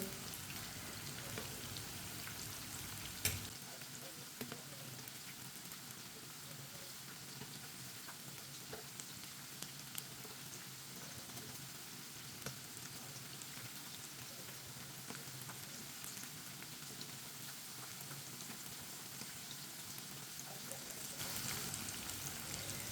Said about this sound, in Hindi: ये वाली साइड से भी 2 मिनट के लिए पकने देते हैं।